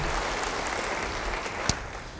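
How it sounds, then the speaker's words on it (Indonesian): Applause from a church congregation during a sermon, a steady dense patter of many hands clapping at a moderate, somewhat distant level, with no speech over it. "Ayo semangat, beri tepuk tangan yang baik bagi dia."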